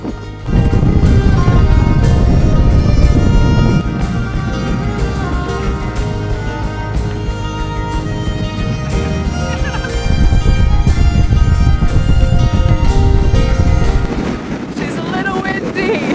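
Strong wind buffets the microphone on an exposed hilltop on the Isle of Skye, Scotland, a loud, continuous rumbling roar with gusty surges throughout.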